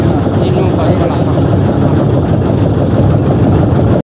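A boat engine runs steadily on the Bhadrabati river, a loud, close, continuous mid-to-low drone that holds at an even level without pause from start to finish.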